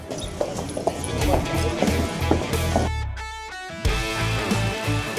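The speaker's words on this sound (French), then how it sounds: "il y a des chevaux partout" Horses moving around the stables at a racecourse on trotting race day, with loud hoof clip-clops on hard ground and busy background activity, a brief quieter moment midway, then the stepping resumes.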